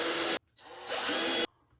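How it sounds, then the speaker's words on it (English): A power drill bores holes into a piece of wood over a sacrificial board, sounding as two loud, broadband whirring bursts separated by a brief pause, each starting and stopping abruptly. "I'm going to go ahead and drill these now"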